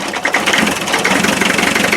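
A 2.5-litre naturally aspirated diesel engine with one injector disconnected, running roughly and unevenly with a lumpy, knocking idle, loud and close.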